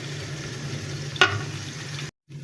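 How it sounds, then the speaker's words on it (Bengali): Finely chopped onions fry in a pan until light brown, a steady close sizzle with a low hum beneath and one sharp clink midway before a brief cut to silence. "এখানে হালকা বাদামি রং করে আমি পেঁয়াজ কুচিটা ভেজে নিচ্ছি"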